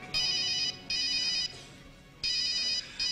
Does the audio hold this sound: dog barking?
no